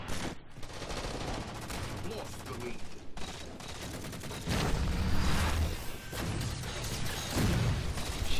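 Rapid gunfire in Halo 4 Infinity Slayer on the Abandon map, with dense bursts of automatic shots and louder heavy blasts toward the end, mixed with game effects and a little speech.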